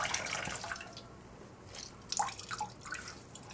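Water dripping and trickling from a wet crochet neckerchief being squeezed by hand, a soft splashing patter with scattered drips, close and fairly faint.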